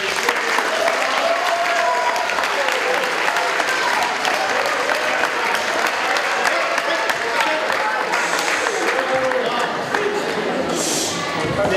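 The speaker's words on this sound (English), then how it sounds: "mutedly, but a wee round of applause to people." A school open-night audience gives a subdued round of applause, steady clapping filling the whole stretch at moderate loudness with crowd murmur beneath.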